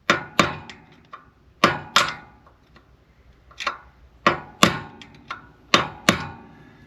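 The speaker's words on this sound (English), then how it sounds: "I'm going to grab my hammer and come back here." Sharp metallic hammer taps on a car wheel spindle of a Pontiac Firebird, struck in irregular clusters of two or three close, loud knocks with short pauses between.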